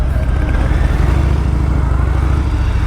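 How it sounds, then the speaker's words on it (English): A Harley-Davidson Fat Bob motorcycle engine drones loud and steady while being ridden, a continuous low rumble with no pauses. "This bike is quite a controversial Harley Davidson."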